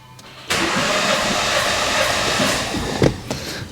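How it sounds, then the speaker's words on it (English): A Mini Cooper S (F56, JCW) with a multiple misfire fault being cranked: a steady starter-motor churn begins abruptly and holds for a few seconds, then a couple of louder catches near the end. "we need to try to crank it the same amount of times for each one"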